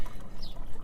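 Water pours steadily into containers while an RV camper fills up for boondocking; the stream is close, with a short, even rush and no pause.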